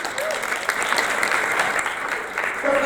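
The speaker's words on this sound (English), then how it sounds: "Let's have a round of applause for our sponsors" An audience at a leadership panel applauds steadily, a dense, even wash of clapping that lasts throughout, with a brief voice faintly audible in it.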